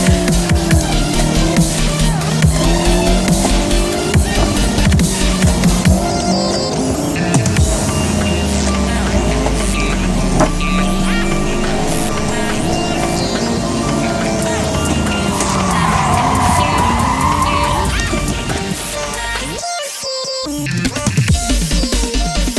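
Car on an autocross run, a loud engine revving up and down through gears with tire squeal on corners, continuous and close throughout, a brief cut near the end.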